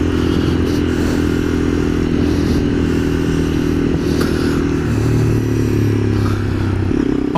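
Honda CB300F motorcycle engine running steadily and loud throughout, with a deep low drone whose pitch shifts slightly near the end as the rider changes speed, plus light mechanical clatter.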